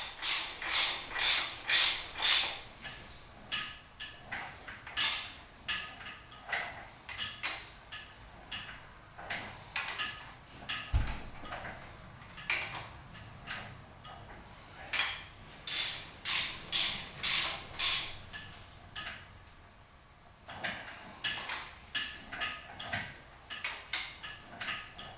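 A ratchet wrench clicks in rapid repeated bursts while bolts are torqued in a star pattern during a V8 Miata build, the sets of close ratcheting separated by brief pauses and one dull knock.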